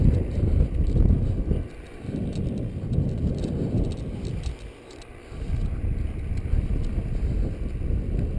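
A paramotor engine held at steady throttle drones continuously in a low, dense rumble, with wind buffeting the microphone and a slight dip midway.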